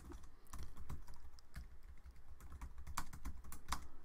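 Irregular, soft clicks of fingers typing on a computer keyboard come in quick bursts and short pauses, fairly faint and close, with no voices.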